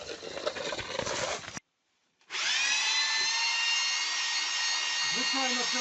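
A rotary hammer drill runs loudly, stops for a brief silent moment, then starts again with a steady high whine and grinding, outdoors on a veranda's exterior walls.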